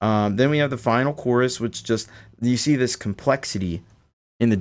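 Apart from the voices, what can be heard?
None of the usual background noises is heard.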